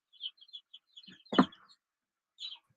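Recorded chick chirps play from an old phone as scattered, thin, high tweets. One louder broadband burst comes in the middle, and a last pair of chirps follows after a short pause.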